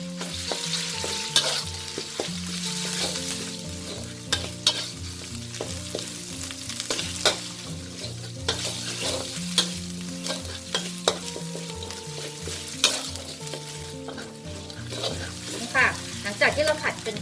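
Thai curry paste and shrimp paste stir-fry over medium heat in a pan for a southern Thai pork rib curry, giving a steady loud sizzle broken by repeated scraping stirs throughout.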